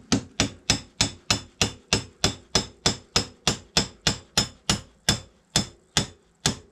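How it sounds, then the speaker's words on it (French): A small hammer knocks the axle out of a Yamaha MP3 500 scooter's swingarm. About twenty sharp, evenly paced metallic blows ring out close up with no talk. "On va prévoir un petit marteau quand même au cas où."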